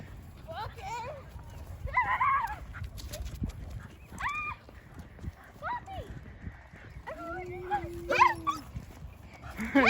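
A dog on a leash walk gives several short barks and whimpering yelps at irregular intervals, with people talking nearby throughout and footsteps in the background.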